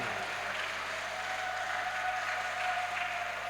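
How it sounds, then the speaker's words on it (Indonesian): An audience applauds steadily at the opening of a regional church choir festival in Sekadau, a continuous, dense wash of clapping from a large crowd with a faint hum underneath. "Tepuk tangan untuk Belitang Hulu."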